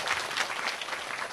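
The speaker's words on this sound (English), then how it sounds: "Oh, we applaud again." An audience applauding a Mongolian national dance group at a stage performance, a steady wash of many hands clapping, moderately loud and continuous throughout the short stretch.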